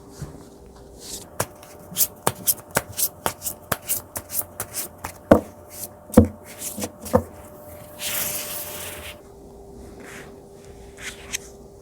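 Tarot cards shuffled by hand at close range, a run of quick crisp riffling taps and slaps in a steady rhythm, then a brief rushing sweep, with no talking.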